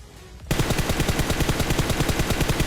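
In the PUBG video game, a burst of automatic gunfire starts abruptly after a brief quiet moment, then continues as rapid, evenly spaced, loud shots.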